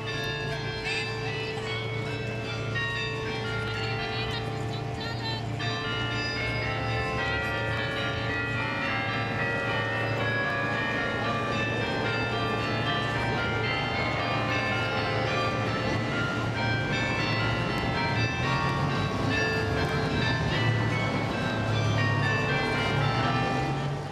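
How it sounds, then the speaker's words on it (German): Cathedral carillon bells in Brussels ring out a continuous chiming melody of layered tones, loud and sustained, with a rumble of city background underneath. "Das Glockenspiel der Kathedrale"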